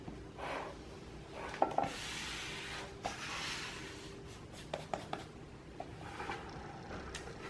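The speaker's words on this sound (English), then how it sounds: "If it's not, rub it down with your finger." A finger rubbing a Prima transfer down onto a canvas, heard as faint, close, scratchy rubbing strokes with a few soft taps in a quiet room.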